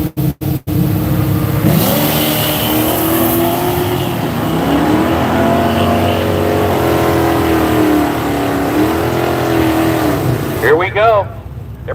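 Drag racing cars, one of them a Mustang, launch at Seattle International Raceway, engines roaring loud and steady with rising revs for several seconds before the sound cuts off abruptly.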